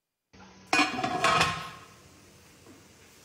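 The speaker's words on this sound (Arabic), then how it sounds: "الحين بسكر عليه وبتركه كذلك لحد ما يستوي معي اللحم" A metal lid set onto a cooking pot of lamb biryani, with a short burst of clanks and rattles as it settles, then a faint ringing tail fading into quiet.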